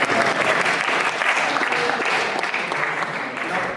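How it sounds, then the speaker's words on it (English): Dense audience applause at a Stop the War campaign meeting, loud and sustained throughout with steady clapping and no break. "We do deserve applause, actually, for that."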